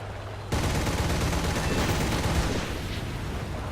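Sustained video game gunfire in a multiplayer battle, a steady barrage of shots that erupts suddenly and continues loud without a pause before easing slightly near the end.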